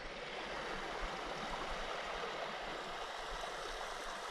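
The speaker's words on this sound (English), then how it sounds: "Beautiful, crystal clear creek, running water." A crystal clear creek running through Lamington National Park, steady broadband rushing and gurgling water filling the whole stretch, close and continuous with no voices.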